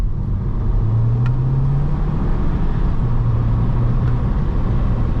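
Volkswagen Scirocco driving at moderate throttle, a steady low engine drone with tyre and road roar heard from inside the cabin, pitch rising slightly and settling.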